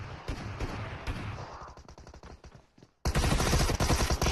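Rapid automatic gunfire in the battle royale game PUBG, dense bursts of shots that thin out, pause briefly, then return louder and nearly continuous.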